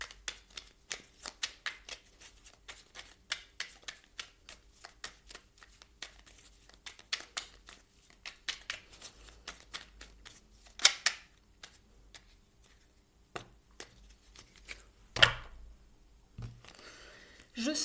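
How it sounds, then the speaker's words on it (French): Someone shuffles and draws a numerology oracle card from a deck, close-up: a long series of light riffling taps and flicks, easing off into a few sharper isolated clicks near the end. "On va aller prendre une carte ici au niveau de la numérologie pour avoir un petit conseil supplémentaire."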